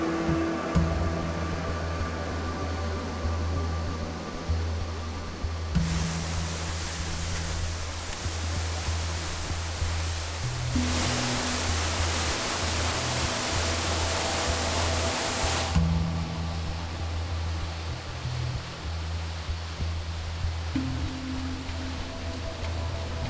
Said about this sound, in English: there is Oniori Waterfall, which we are going to climb up